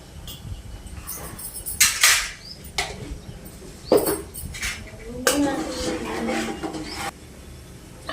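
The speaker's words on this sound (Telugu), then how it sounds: "ఉప్పు వేసినాం కదా ఒకసారి కలుపుకోవాలి" Okra sambar stirred with a spoon in a pot after salt goes in, giving intermittent scraping and clinking strokes at close range, with a few short loud scrapes separated by quieter simmering gaps.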